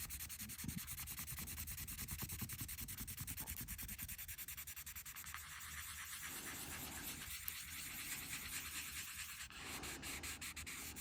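Steady rubbing and scraping as a heart shape is embossed on thin metal tape through a folded piece of cloth, a continuous close, soft sanding texture with brief pauses near the end.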